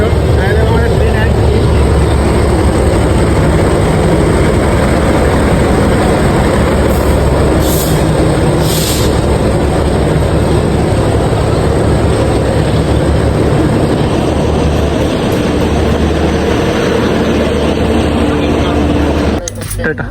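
The Mumbai–Howrah Kolkata Mail, train 12322, sits at a station with a continuous loud rumble of engine and carriages, a few brief clanks, and voices talking throughout.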